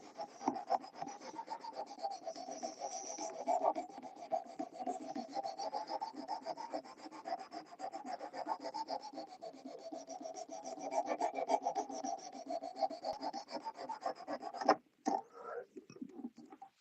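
Steady back-and-forth scraping of a cheap $5 Ozark Trail axis lock folding knife being sharpened, rhythmic strokes running continuously at close range before a sharp knock and a brief pause near the end.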